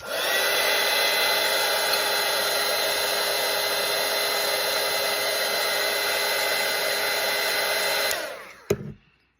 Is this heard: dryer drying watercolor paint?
yes